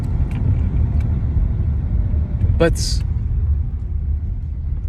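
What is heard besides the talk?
rented car engine rumbling while driving stick shift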